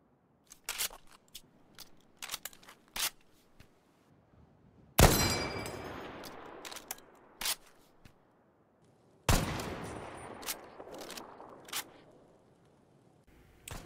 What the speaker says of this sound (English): let's take a look at the games from earlier, but let's see how they depict reloading.